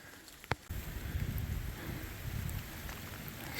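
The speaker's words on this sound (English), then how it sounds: "Still raining on us" Steady rain falls outdoors during a climb up a rock face on Baker Peak, a soft continuous hiss with a sharp knock near the start, fairly faint and close.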